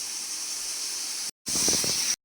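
A pressure cooker cooking greens lets out a steady, loud hiss that runs unbroken, cuts out briefly, then resumes just as strongly before stopping abruptly.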